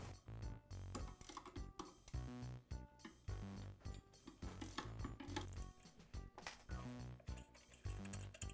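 Four bolts are ratcheted loose from the motor mount of a Ridgid drain auger during a motor replacement, giving a steady run of loud, close, fast mechanical clicks in repeated bursts with no talking.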